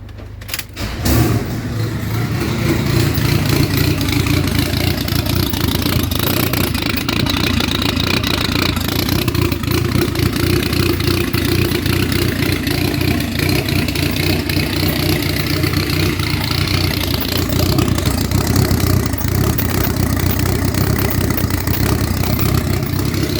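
A turbocharged Honda F23 engine starts up, then idles loudly and steadily up close, with a rough, rapid mechanical chatter throughout.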